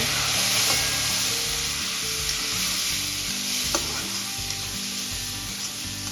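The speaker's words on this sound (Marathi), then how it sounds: "आता एकदा हे पाणी मिक्स करून घेऊया दर्यामध्ये" Hot water stirred into roasted broken wheat in a pan sizzles steadily, a loud continuous frying hiss with faint scraping of the spoon and a low rhythmic hum beneath, no voices.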